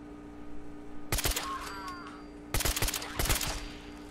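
Suppressed full-auto assault rifle in Fallout 4, short rapid bursts of muffled clattering shots at close range over a low background hum, with one burst early and a longer volley later.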